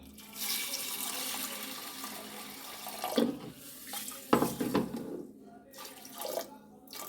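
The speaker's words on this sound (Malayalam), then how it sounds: "ആവശ്യത്തിന് വെള്ളം ഒഴിച്ചു കൊടുക്കാം" Water pours and splashes into a cooking pot in a few bursts, with some clinks and handling noises between pours.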